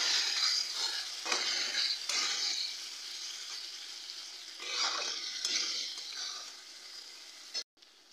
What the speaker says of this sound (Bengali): রসুনটাকে দিয়ে খুব ভালো মতো কষিয়ে নেব।